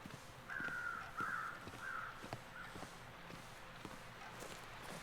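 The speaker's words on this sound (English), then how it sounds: "There's our murder of crows." Crows cawing in the video game The Long Dark: a flock gives several harsh, clustered caws over the first couple of seconds, with crunching footsteps and faint ambient noise continuing underneath.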